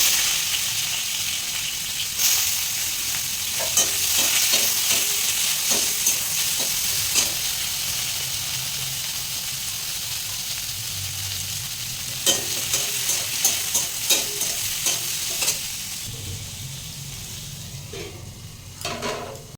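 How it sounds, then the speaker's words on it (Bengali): Bitter gourd fries in hot oil tempered with mustard seeds and black cumin, giving a steady close sizzle. Scraping stirs and clinks come in bursts throughout, and no one speaks. "এখানে কিন্তু করলা ভাজার সময় আমি সামান্য পরিমাণে সর্ষে এবং কালো জিরা ফোড়ন দিয়ে করলাটাকে ভেজে নিয়েছি।"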